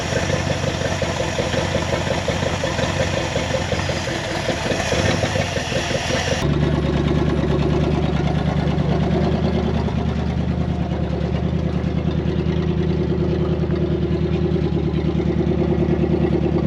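An old Dodge Power Wagon, abandoned for 41 years, idles with a badly leaking, horrendous exhaust: a steady, loud, rough engine rumble with a slight change in tone partway through, continuous with no talking.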